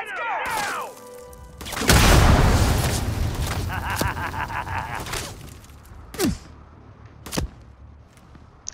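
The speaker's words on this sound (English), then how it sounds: "Who's shooting at me?" Gunfire in the video game Starfield aimed at the player: a loud broadband burst and crashing impacts, followed by sharp isolated cracks amid game noise, with a voice speaking briefly.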